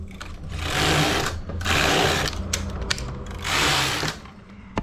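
A knitting machine carriage is pushed back and forth in three long, loud mechanical whirring passes, with rattling clicks and brief pauses between strokes, making a geometric stepped pattern.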